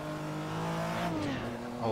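A custom-made engine sound for a classic race car in the racing game Targa Florio: one steady, droning engine tone whose pitch slides down and then back up, loud and continuous.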